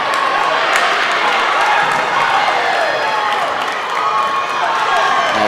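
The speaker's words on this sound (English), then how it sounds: "And the crowd very much getting into it." A basketball crowd in a college men's game against NJCU roars steadily with cheering and applause, a dense, loud wash of noise sustained throughout without break.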